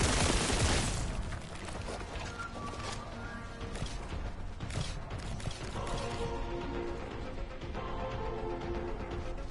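Gunfire in Warhammer 40K Boltgun on PS5, opening with a loud burst of rapid shots and then settling into clattering mechanical game effects and scattered impacts.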